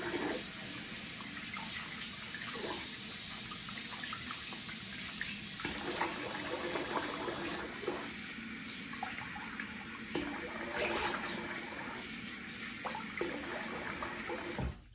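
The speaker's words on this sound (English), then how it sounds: "All right, I'm gonna rinse the face." Running tap water in a bathroom during a face rinse after a shave, a steady near hiss with splashes and brief changes in flow, heard alone for the whole stretch.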